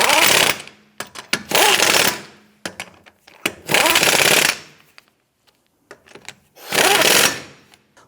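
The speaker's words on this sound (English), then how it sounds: "Let's go ahead and get all of our lug nuts started by hand. Once these are all on, we'll go ahead and snug them down." An impact wrench tightens lug nuts on a 2008-2013 Nissan Rogue wheel in four loud rattling bursts, each about a second long, separated by short pauses and smaller clicks.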